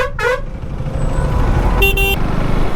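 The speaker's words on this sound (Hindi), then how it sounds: "किस बात का लग रहा है यहाँ इतना लंबा ट्रैफिक।" Car horns honk twice in a long traffic jam, a quick toot at the start and a longer blast later, over a low steady hum of idling vehicles nearby.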